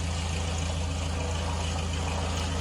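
Engine of a Carenado Ovation aircraft idling in Microsoft Flight Simulator, heard from outside as a steady, droning low hum with a constant rhythmic pulse and no other sounds.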